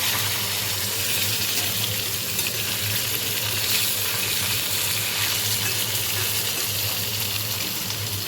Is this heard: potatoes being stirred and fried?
yes